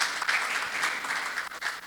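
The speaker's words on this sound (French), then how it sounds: "applaudissez-les." An audience applauds, a steady wash of many hands clapping at moderate level for the whole stretch, with no distinct voices on top.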